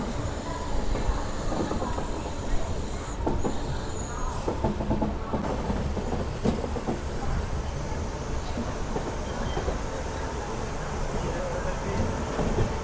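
A Machilipatnam–Bidar superfast express train rolls into Vijayawada Junction, its wheels clattering steadily with brief squeals and rail noise throughout, while a crowded platform murmurs around it.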